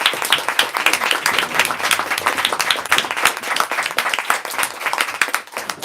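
Audience applause welcoming Emily St. John Mandel and Isaac Fitzgerald at a book event at Books Are Magic, a dense, steady wash of many hands clapping that fills the whole stretch without talk.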